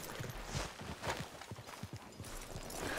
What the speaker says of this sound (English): Let's leave the horses here off the main drive.